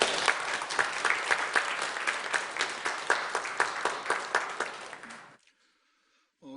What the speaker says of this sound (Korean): 우리 하나님 앞에 영광의 박수